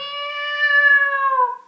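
Cat on a garden wall letting out one long, drawn-out caterwaul that rises and then falls away, close and loud with no other sounds.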